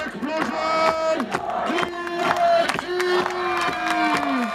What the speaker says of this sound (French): Un tonnerre d'applaudissements pour The Explosion